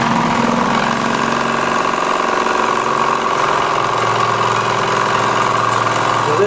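Generators run loudly and steadily to charge a 1.2-farad capacitor bank, a constant droning engine-like hum with layered tones and no pauses.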